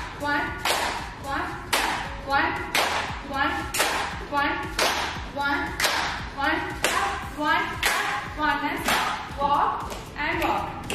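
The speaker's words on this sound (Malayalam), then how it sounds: "സൈഡ് ക്ലാപ്പ് എന്ന് പറയുമ്പോ ബേസിക് വൺ സ്റ്റെപ്പാണ് ഞാൻ കാണിച്ചതരാം" Rhythmic hand claps on a side-step during a basic aerobic weight-loss workout, about a dozen sharp claps spaced evenly at a steady beat, close and prominent with music underneath.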